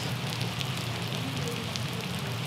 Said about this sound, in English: Do you like the sound of raindrops?